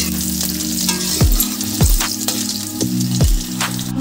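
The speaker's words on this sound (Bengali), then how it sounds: "আমি গ্যাসটাকে এবার মিডিয়ামে করে রসুনটাকে একটু ভেজে নেবো হালকা।" Garlic fries gently in oil over a medium gas flame after a nigella seed tempering, giving a steady close sizzle broken by a few sharp pops and spatters, with no voices.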